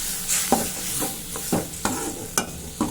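Okra masala with onion and tomato simmering in a pan after water is added, a soft bubbling sizzle under repeated scraping stirs of a spoon at an irregular rhythm.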